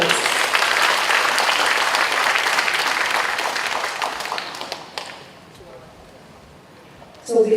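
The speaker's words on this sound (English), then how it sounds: "A round of applause." Loud applause from an audience welcoming a singer at a live event, sustained for about five seconds before fading to quiet room tone, with a brief burst of noise at the end.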